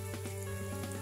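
Ginger sizzling as it sautés in a pan for laing, a faint steady crackle over a low electrical hum, with no one talking.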